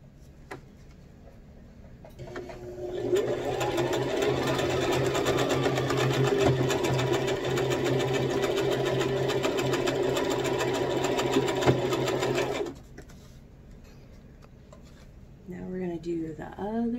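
A sewing machine runs steadily for about ten seconds, stitching a fabric face mask, loud and close, then stops; a voice speaks briefly afterward.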